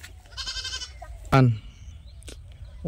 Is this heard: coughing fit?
no